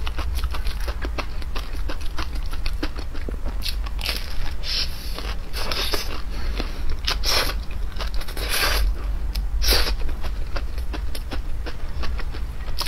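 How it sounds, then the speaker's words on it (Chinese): Close, wet bites and chewing on cheese-filled hot dog sticks repeat in irregular crunchy bursts over a steady low background, with no talk. "我们今天来吃热狗棒，看能不能拉丝。"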